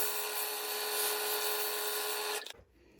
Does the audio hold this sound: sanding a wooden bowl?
yes